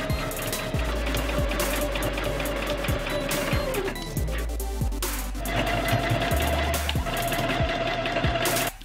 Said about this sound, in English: So I started sewing the easier piece, which was just hemming the bottom edge of the jacket that I cut.